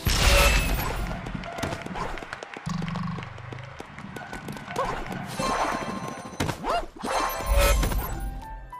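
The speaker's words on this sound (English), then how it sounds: "That explosion could hurt someone." A cartoonish explosion from the video game Epic Mickey 2: The Power of Two, heard as several sharp crashing bursts and thumps amid game sound effects, loud and close, with a deep rumble partway through.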